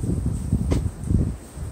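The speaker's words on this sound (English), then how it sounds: "It's windy. It's breezy today." Steady low rumble of wind buffeting outdoors, with gusty swells and faint rustling, continuous throughout.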